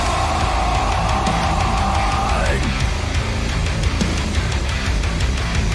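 Dense, heavily distorted low-tuned guitars in F standard from a song on a 2022 album, with a sustained high lead tone bending down midway over a relentless chugging band mix.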